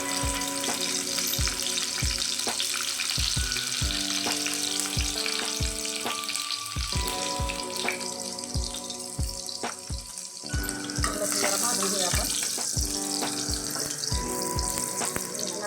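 Garlic sizzles in hot oil for a tempering for a Maharashtrian chakvat (bathua greens) dish, a steady loud frying hiss with regular sharp clicks and taps running through, no voices.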